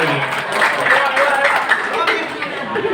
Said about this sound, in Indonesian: Tepuk tangan untuk saya sendiri ya.